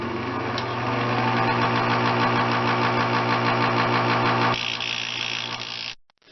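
A power tool grinds fiberglass, whining steadily with a buzzing, grinding drone that shifts tone partway through, then cuts off abruptly near the end.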